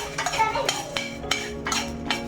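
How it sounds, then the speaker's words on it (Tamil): A spoon stirring urad dal in a pan, giving repeated clinks and scrapes of metal on metal at an irregular rhythm, close and fairly clear, with a faint background hum. "அப்புறம் கொஞ்சம் உளுத்தம் பருப்பு போட்டு கிளறி"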